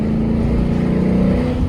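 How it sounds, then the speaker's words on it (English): A Ford Mustang with a Borla ATAK active exhaust is opened up in third gear, giving a loud, close, sustained throaty drone as the engine pulls. "Let you guys hear the exhaust."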